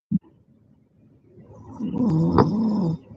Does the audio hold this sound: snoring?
yes